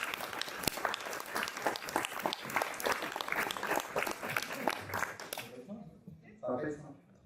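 Audience applauding at a political summer conference on Europe, a sustained run of many hands clapping that tapers off, followed by a voice speaking.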